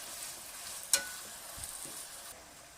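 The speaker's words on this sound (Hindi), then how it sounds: "इसको 3 से 4 मिनट तक अच्छी तरह से ज़रा इसमें भूनेंगे।" Washed cholia chickpeas, about 500 grams, sizzling in a hot pan as they are stirred and roasted, with a steady soft hiss, one sharp clink near the start and a few faint scrapes.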